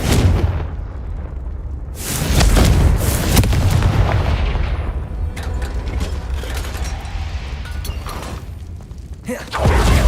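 Booming fire-spell blasts from the Hogwarts Legacy video game, with heavy explosive bursts and rumbling crashes close up, one near the start and another at the very end.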